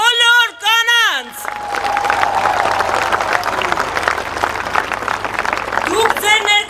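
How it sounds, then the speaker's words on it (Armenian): Loud, sustained applause from an audience clapping for the women at a political gathering, with crowd noise and a speaking voice briefly at the start and end. "ուզում եմ բարձր ծափարենք մեր բոլոր կանանց։"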